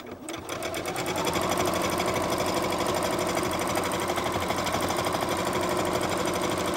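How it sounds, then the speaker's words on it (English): A sewing machine runs steadily up close doing simple straight stitching, its rapid mechanical stitching chatter holding an even, continuous pace. "This is a good way to introduce you to the sewing machine because it's all just very simple, straight stitching."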